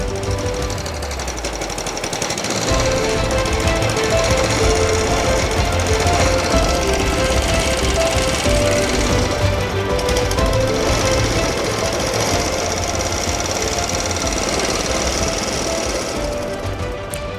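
Qualcast Classic 35s lawn mower engine after restoration, cranking briefly and then catching into a loud, steady, rapid hammering run that continues close and unbroken, with no voices over it.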